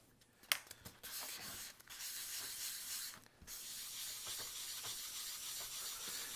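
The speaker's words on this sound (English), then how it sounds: "Sanding with 600." Wood surface being wet-sanded by hand with 600-grit sandpaper, a soft rhythmic rubbing hiss in repeated strokes with a few brief pauses and a sharp tap near the start.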